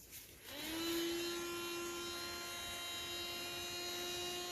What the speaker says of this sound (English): I do like my little blower